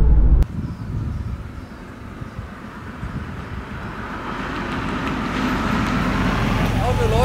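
A 1989 Porsche 911 3.3 Turbo Cabriolet with a five-speed gearbox on a road drive, giving a steady engine and road roar that slowly builds in loudness, with no talk over it.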